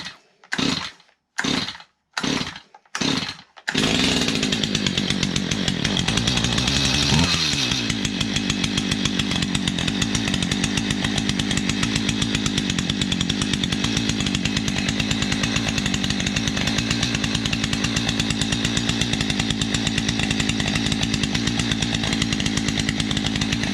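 A Stihl MS211 chainsaw gets several sharp pull-start tugs, then fires and runs. It revs briefly and settles into a loud, steady idle that fills the rest of the clip, close up and with no talking.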